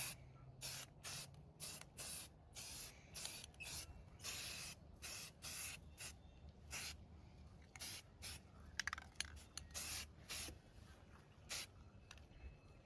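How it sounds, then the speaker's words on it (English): Brown camouflage paint is sprayed onto an AR-15 rifle in short, repeated hissing bursts from an aerosol can, close by, separated by brief pauses. "he's going to spray the brown on and see how this turns out"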